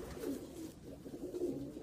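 A small pigeon coos softly and close by in a low, repeated rolling call, two phrases with a brief pause between them and no voices.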